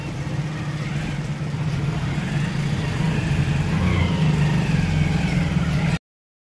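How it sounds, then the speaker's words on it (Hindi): A family car pulls away, a low steady engine rumble with rising road noise that grows slightly louder before cutting off abruptly. "तो जा रही है अब गाड़ी हमारी।"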